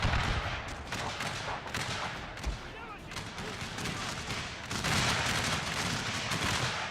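Gunfire and artillery in a Civil War battle video game set at Franklin, 1864, with dense crackling volleys and deeper booms rolling continuously, swelling louder near the end.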